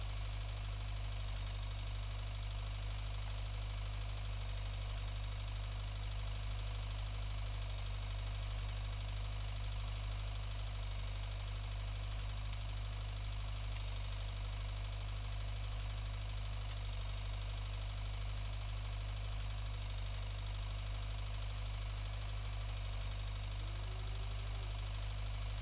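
A tractor engine in the farming game Agricultural Simulator 2013 runs at a steady idle, a continuous loud low drone with a constant hum and no change in pitch, heard alone throughout.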